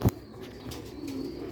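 Soft cooing from Ferozpuri pigeons, a low murmuring call that follows a sharp brief knock at the very start, with no talk.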